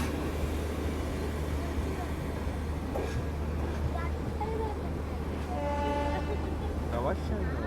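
The Dhauli Express pulls into platform 8 at Puri railway station under a constant low rumble of engine and wheels, with several short horn toots sounding near the end over busy station noise.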